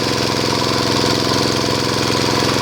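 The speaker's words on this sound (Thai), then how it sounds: "เร่งเครื่องพอประมาณเร่งเครื่องพอประมาณนะครับ" A small gas engine runs steadily and loudly at a fast, even chug, a water pump motor held at moderate throttle with no voices.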